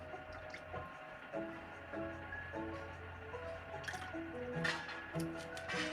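Spicy glass noodle soup broth is ladled, dripping and splashing softly in faint, scattered liquid sounds over a quiet background.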